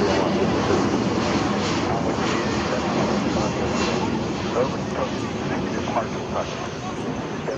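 A fixed-wing airplane roars steadily during its takeoff roll from runway 22 right over Long Island, a broad continuous engine rumble that holds at a fairly loud, even level throughout.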